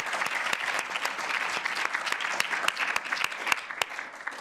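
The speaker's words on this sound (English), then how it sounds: "Round of applause for them." Audience applause at a talk on personal activism, many hands clapping in a dense, steady burst that carries loud and close throughout, with a few sharper individual claps standing out.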